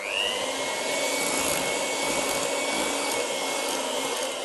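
Cookie dough being mixed after a half teaspoon of salt goes in, heard as a steady, loud machine-like whir that runs unbroken and evenly throughout, with no voices.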